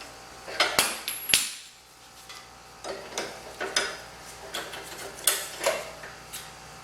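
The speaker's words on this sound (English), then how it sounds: "So I'm gonna adjust your wrench for this side." Metallic clinks and ticks of a wrench being fitted and adjusted on the chain side of a Honda VT750 ACE Shadow motorcycle, close by in short irregular bursts with quiet gaps.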